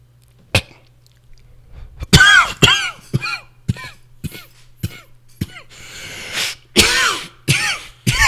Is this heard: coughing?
yes